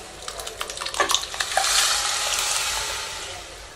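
Cooked tomato and lentils poured into frying onions for onion sambar, giving a scraping stir and a rising sizzle that spreads as the wet mixture hits the hot pan, close and alone.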